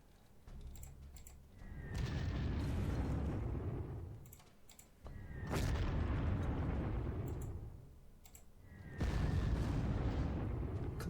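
Bombing explosions in the wartime strategy game Panzer Corps, set in a 1941 campaign: three loud, rumbling blasts roughly three seconds apart, each swelling and fading into the next, with no talking.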